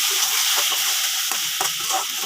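Dried loitta fish (Bombay duck) stir-fried in a pan gives a steady close sizzle, with soft scraping and stirring clicks recurring every half second or so.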